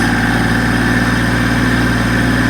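A GC1723EB compact tractor engine runs at a steady, loud, low idle-like drone while the rear PTO drive shaft spins, with no other sounds.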